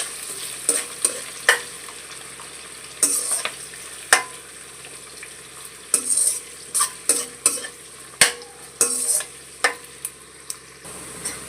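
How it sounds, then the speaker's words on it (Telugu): Onions and green chillies fry in oil for prawn biryani, with a steady sizzle broken by repeated sharp scrapes and clinks of a spoon stirring the pan, close and fairly loud. "కట్ చేసి పెట్టుకున్న పచ్చిమిర్చి, అలాగే ఆనియన్స్ కూడా వేసుకోవాలి. ఫ్రై చేసుకోవాలండి బ్రౌన్ కలర్ వచ్చే వరకు."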